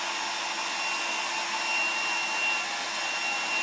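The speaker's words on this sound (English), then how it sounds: "So this way I'm drying my hair in the direction that I want it to lay" A hair dryer blows steadily while hair is dried, a close, even whirring hiss with a fixed motor whine and no breaks.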